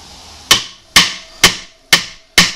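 A hammer taps on a Honda rear wheel axle nut in five evenly spaced, sharp metallic strikes, each ringing briefly before the next.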